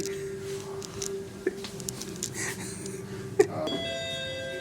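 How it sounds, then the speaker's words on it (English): A few soft bell-like dings ring out at intervals over a quiet background hum, followed by a brighter sustained chime at the end. "Bell rang, but no one is there outside."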